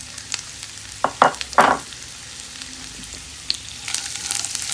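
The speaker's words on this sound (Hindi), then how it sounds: "इसे घी में फ्राई करेंगे।" Dry fruits fry in hot ghee with a crackling sizzle and a couple of louder spattering bursts, then a softer, steady bubbling hiss, with no voices.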